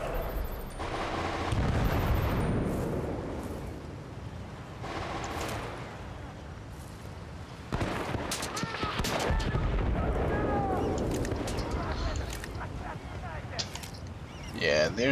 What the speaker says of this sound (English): there's a lot of sniper fire, dude